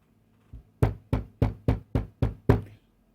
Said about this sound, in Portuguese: O lobo bateu na porta da vovó